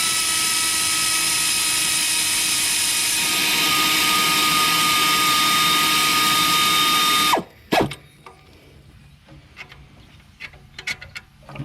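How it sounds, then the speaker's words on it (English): An air ratchet runs loud and steady for about seven seconds, close up, as it spins out an alternator bolt on a 2009 Scion xB. It then cuts off abruptly and is followed by a few light metallic clinks and tool handling. "let's see if we can zap that out there with the air ratchet"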